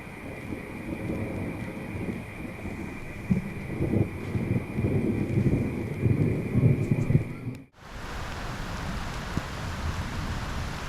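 An approaching thunderstorm at Pacific Palms on Australia's east coast brings a steady hiss of rain with gusty, rumbling wind, which cuts abruptly to a brighter wash of rain near the end.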